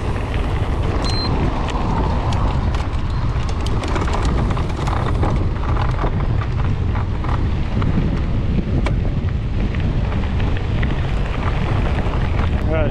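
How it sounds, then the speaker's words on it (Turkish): Headwind roaring across the microphone while riding an electric bike uphill, a loud, continuous buffeting rush with no let-up throughout. "Evet, şu anda karşıdan rüzgar geliyor."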